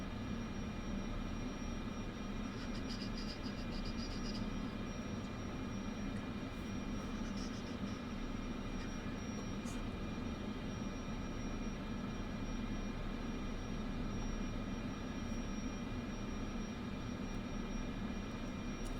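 A small aircraft taxiing to general aviation parking in Microsoft Flight Simulator 2024, a steady droning engine hum with a constant tone, unbroken and even, with no talk.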